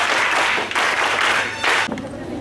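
An audience at a government school event applauds in three loud, dense bursts of clapping, then settles into quieter background noise.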